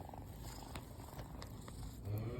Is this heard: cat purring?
yes